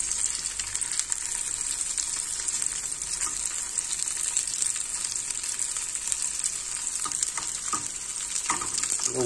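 Steady, constant sizzling of an egg frying sunny-side up in a hot coated pan, with faint scraping of a spatula near the end.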